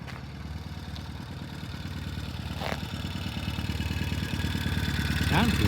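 A vintage British motorcycle rides up under power, its engine note steady and growing louder as it approaches, with a brief voice heard over it.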